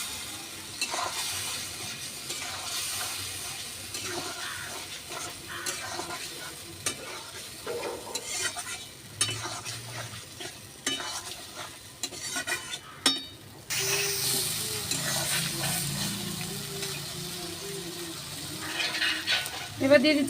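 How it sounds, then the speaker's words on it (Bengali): Ground spices for a tomato-based Bengali fish curry sizzle in a pan as they are stirred, with scraping utensil strokes over a steady frying hiss that grows louder midway. The sounds are fairly quiet and close. "এবার সব মশলাগুলো আমি একসাথে কষিয়ে নেব।"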